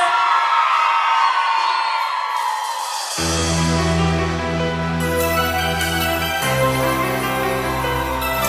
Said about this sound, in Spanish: Arranca con el grito de todos en la noche.